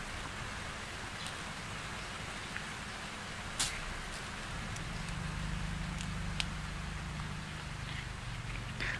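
Heavy rain pouring steadily outdoors in a forest area, a dense continuous hiss with occasional louder drips and splashes close by, no voices.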